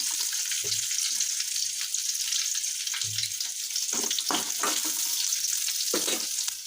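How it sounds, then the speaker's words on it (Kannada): Long-sliced onions sizzle steadily in hot oil in a pan, a close, continuous frying hiss broken by a few soft stirring knocks. "ಉಳ್ಳಾಗಡ್ಡಿ ಇವಾಗ ಹಾಕಿ ನೋಡ್ರಿ"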